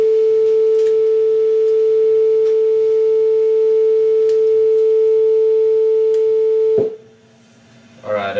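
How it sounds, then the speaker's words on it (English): Steady pure sine tone fed into a Ruben's tube, holding loud and unbroken for nearly seven seconds before cutting off abruptly, followed by a brief quiet gap and a faint rising sound. "So we'll play the sound wave again and we'll measure from the top of one to another."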